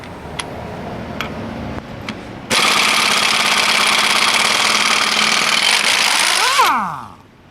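An Earthquake XT impact wrench is triggered after a few faint clicks and hammers loudly and steadily for about four seconds before winding down with a falling whine.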